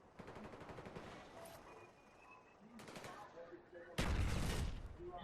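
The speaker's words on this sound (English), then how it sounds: "there I go doing some conservative shooting" Gunfire in Call of Duty: Black Ops multiplayer on the Grid map, with rapid bursts of automatic shots, then a louder, heavier barrage near the end, under a person's commentary.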